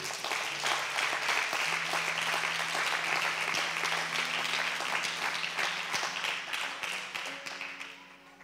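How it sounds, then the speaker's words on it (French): A church congregation applauds steadily for over eight seconds, a dense wash of many hands clapping with some cheering voices and a low sustained tone underneath, loud and fairly close throughout. "Donnez des bonnes acclamations à Dieu."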